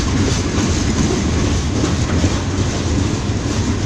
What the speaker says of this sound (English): That's one of the shortest trains I've seen this week.